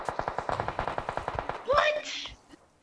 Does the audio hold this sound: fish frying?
no